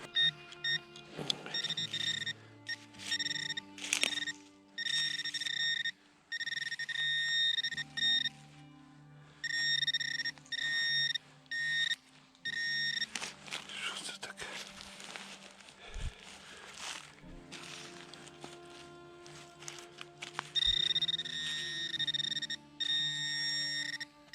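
Metal detector signal beeping in a forest, repeated steady electronic tones in bursts with short gaps, fairly close, mixed with rustling and handling noise.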